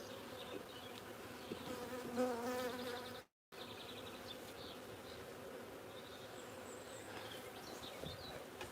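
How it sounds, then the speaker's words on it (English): Honeybees buzz around an open hive, a dense, faint, continuous drone of many wings with individual bees whining past up close, broken by one brief dropout. "A lot of the bees all calling everyone back in"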